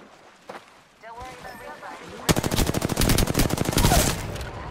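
Rapid bursts of gunfire in a video game ring out close and loud over the second half, coming after a quieter stretch with a few scattered shots and some talk.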